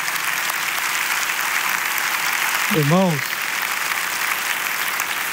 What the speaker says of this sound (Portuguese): temos que aplaudir a Jesus